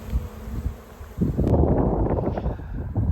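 Honeybees from a swarm hum and buzz in the air beside a hive trap, a steady near drone that grows denser and louder partway through, with rustling outdoors.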